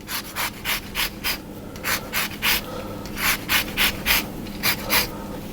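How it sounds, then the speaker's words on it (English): An orange is zested against a grater in a series of quick, rhythmic rasping strokes, close and fairly quiet, with short pauses between bursts and no talking. "if you zest the whole orange, that would be fine as well"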